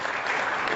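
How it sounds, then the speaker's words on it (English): Applause from an audience at a business talk, a short burst of dense, steady clapping heard alone at an even volume. "Wow, big round of applause."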